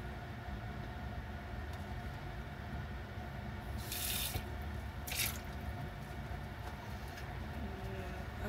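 Dishes are washed at a sink under running water, a quiet steady stream with faint clinks and a couple of brief brighter splashes, with no talking.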